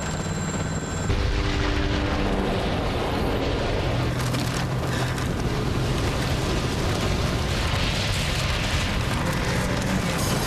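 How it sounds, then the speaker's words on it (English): A supervolcano erupting in Wyoming, United States, a massive volcanic explosion heard as a continuous loud, deep roaring rumble with broadband blast noise that stays heavy and sustained throughout. "of a major volcanic explosion in Wyoming in the United States"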